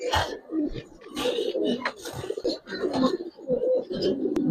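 Giribaz pigeons in a loft coo close up in soft, throaty, repeating rolls, several birds overlapping continuously with no clear speech.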